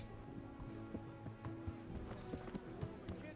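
Horse hooves clip-clopping in Kingdom Come Deliverance as the rider calls up his horse, a steady stream of soft irregular thuds under game ambience and a voice talking over them.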